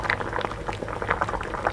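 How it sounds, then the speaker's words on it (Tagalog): Chicken adobo bubbles in a pot with a close, busy gurgle and irregular popping of simmering liquid throughout. "Yan lang natin kumulo ng mga 4 minuto bago natin haluin."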